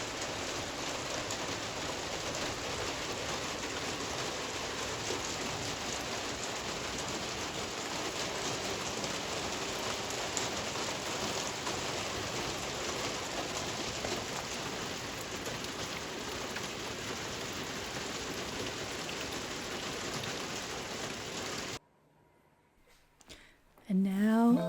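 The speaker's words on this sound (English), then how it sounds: "headed out into the greenhouse just to enjoy the sound of the rain" Rain falls on a greenhouse and is heard from inside as a steady, dense hiss that holds for about twenty seconds. It stops abruptly near the end, followed by a few faint shuffling sounds.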